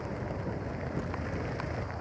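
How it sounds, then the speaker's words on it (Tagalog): Heavy rain pours down steadily during a thunderstorm with lightning nearby, a dense, constant roar of drops with no talking. "napakalakas ng ulan ngayon"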